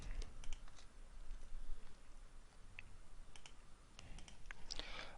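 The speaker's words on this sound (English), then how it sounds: "this is the command that you need to type if you want to install Java JDK, and press enter" Typing on a computer keyboard to enter a terminal command on Ubuntu, quiet irregular key clicks scattered across the stretch with a firmer tap near the end, no voices.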